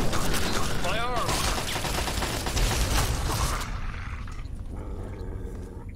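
Dense, loud gunfire in Fallout 3 fills the first few seconds as a continuous clatter, then fades into a lower rumble with scattered distant shots.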